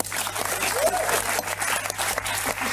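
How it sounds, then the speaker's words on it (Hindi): Dense audience applause at a roast night on a reality TV show, a steady wash of clapping with crowd noise and voices mixed in. "जेन्युइनली सबके लिए तालियां"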